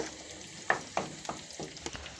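Home-ground spices fry in a pan, giving soft, sparse crackles and sharp little pops over a quiet sizzle, heard alone without voices.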